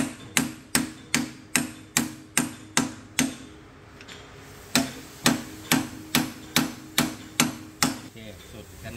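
A steel hammer drives a tight-fitting bushing into a motorcycle swingarm with sharp, evenly spaced metallic blows. A steady run of strikes stops briefly, then the same rhythm resumes, close and loud.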